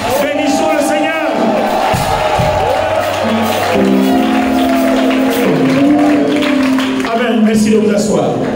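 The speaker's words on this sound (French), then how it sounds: "Est-ce que quelqu'un peut célébrer le Seigneur Jésus-Christ par des acclamations? Est-ce qu'on peut le bénir par des cris de joie?" A church congregation at a New Year's Eve service cheers, claps and shouts praise together in a loud, continuous, crowded roar. Voices call out and sing over the din throughout.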